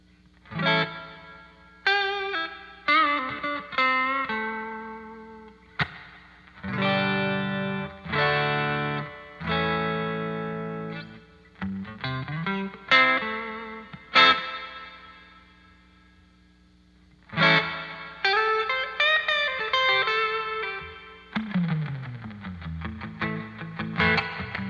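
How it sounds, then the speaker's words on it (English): Electric guitar played through a NUX Atlantic pedal set to spring reverb: plucked chords and single-note phrases, each attack ringing out and decaying in a wet, springy tail, separated by short gaps. "Let's kick on that reverb."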